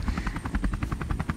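A drone flying high over Mairiporã, São Paulo, on low battery, giving a close, rapid, evenly pulsing rotor buzz that throbs steadily with no voices.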